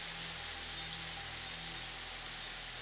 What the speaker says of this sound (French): La pluie. Pas une simple pluie. La pluie de la mousson.